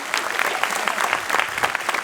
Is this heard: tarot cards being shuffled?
no